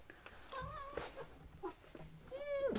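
A pet cat named Filou gives a few soft, intermittent meows in a quiet room, with a rising, drawn-out cry near the end and someone speaking gently around it.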